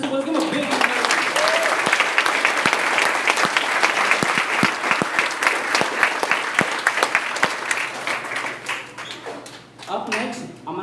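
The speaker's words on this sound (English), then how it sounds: "So a big round of applause to your principal" Loud, sustained applause for an elementary school principal, with sharp individual claps standing out from a dense crowd and voices mixed in, fading briefly near the end before picking up again.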